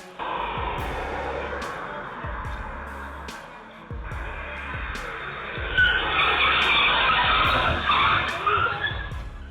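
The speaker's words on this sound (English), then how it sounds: "A sudden skid makes everyone hold their breath, but it stops just in time." Car tires skid and squeal on a wet road, with a long drawn-out scraping screech that swells louder toward the end. Engine rumble and a voice sit underneath.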